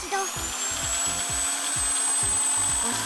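At its slowest speed an electric drill grinds through material, giving a steady run of rhythmic low thumps about every third of a second beneath a constant whine, loud and close.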